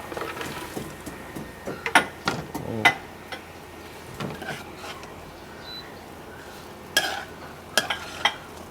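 Chopped pork fat with chili is fried and stirred in a pan over low heat: a soft, steady sizzle with scattered scraping and clinking strokes from a utensil, some louder knocks standing out.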